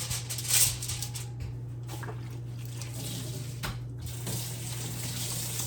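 Kitchen tap water running at a sink during handwashing, a steady close splashing stream with brief louder spatters near the start, heard alone without talk.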